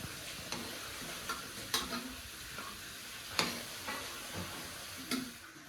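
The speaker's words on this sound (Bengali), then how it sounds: "আমার আলুগুলো লাল লাল করে ভাজা হয়ে গেছে, এবারে তুলে নেবো।" Potato pieces frying in hot oil are stirred in a pan, giving a steady close sizzle broken by several sharp scrapes and clicks of the spoon at irregular intervals.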